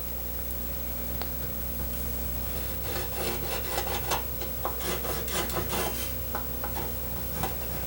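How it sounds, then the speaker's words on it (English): A wax china marker is drawn along a motorcycle seat pan, giving close, dry, scratchy rubbing strokes in short bursts with no talking. "Using a wax china marker, I'll lay out center reference down through the seat pan."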